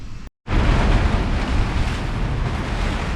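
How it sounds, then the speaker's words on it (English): Strong storm wind roars and buffets outside a garage during work on a 1989 classic Mini, a loud, continuous broadband rush with a brief dropout near the start, otherwise steady and alone. "I'm going to name it Storm Boris."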